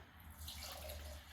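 Warm water streams steadily from a cup into sourdough bread dough ingredients with olive oil, a soft, continuous trickling pour that is faint and close.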